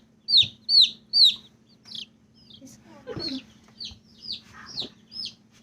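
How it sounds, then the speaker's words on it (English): Baby chicks peep in quick, high, downward-slurred calls, three loud ones up front followed by softer scattered peeps close by, with faint voices and a low background hum underneath. "We got chicks, y'all."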